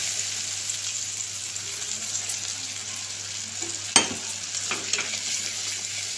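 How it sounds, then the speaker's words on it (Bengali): A spice paste of melon seeds, poppy seeds and green chilli fries for Bengali parshe fish tel jhal, a steady close sizzle with one sharp stirring clack partway through. "দিয়ে ভালো করে মশলাটাকে কষিয়ে নেব।"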